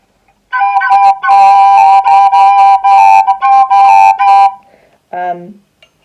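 A bright, whistled melody on a blues tin whistle, with quick repeated notes and ornamented double articulations, played close and alone, ending with a short phrase.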